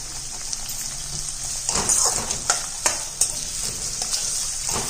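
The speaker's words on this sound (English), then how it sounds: "Then put onion to it and cook onion well till it is golden brown." Onion frying in a pan for vegetable biryani, a constant hissing sizzle that swells as the pieces are stirred, with several scraping knocks of the spoon mid-way.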